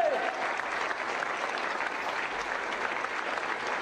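Circus audience applauding an international trapeze act, a broad even wash of clapping from a large crowd, steady and moderately distant throughout.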